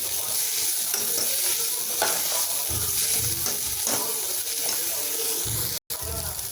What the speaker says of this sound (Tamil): கொஞ்சம் மல்லித்தழை, இதையும் போட்டு வதக்கிக்கலாம்.